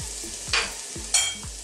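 Onion, garlic and turmeric fry in a hot pot for an Ethiopian vegetable stew, giving a steady close sizzle with two brief louder bursts and a few low knocks from stirring.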